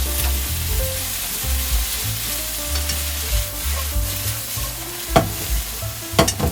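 Vegetables stir-frying in a pan for doubanjiang jeyuk bokkeum, a spicy pork stir-fry: a steady close sizzle with repeated stirring scrapes and clatters and no talking.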